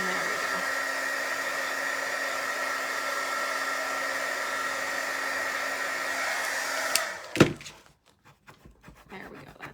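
A heat tool blows hot air over vinyl letters on a painted sign, a steady close whooshing hum that runs for several seconds, then cuts off with a thunk and a few faint knocks.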